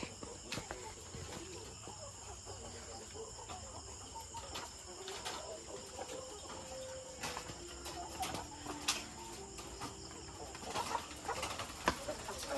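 Laying hens cluck and murmur softly at night on a farm beneath a constant chorus of crickets and insects, with scattered faint clucks throughout.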